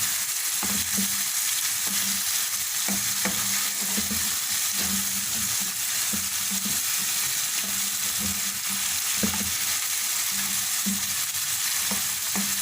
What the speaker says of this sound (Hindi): अच्छी तरह से मिक्स करके इस चिकन को 2-3 मिनट ऑयल में फ्राई करेंगे।